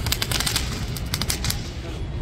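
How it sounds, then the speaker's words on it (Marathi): Diwali firecrackers set off by boys on the Brahmagiri hill near Trimbakeshwar, a dense run of sharp cracking bursts rattling in quick succession, moderately close and continuous throughout. "मस्त आनंदामध्ये ते पोरं फटाके फोडत आहेत."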